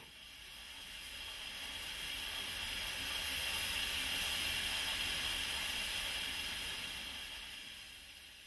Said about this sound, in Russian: Отремонтированные и готовые к работе локомотивы выпускают пар.